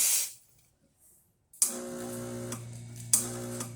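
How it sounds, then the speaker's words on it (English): A short hiss bursts out from an Expobar espresso machine, then after a pause a steady mechanical hum sets in, broken by two sharp hissing spurts from the steam wand. "we're able to get hot water and steam"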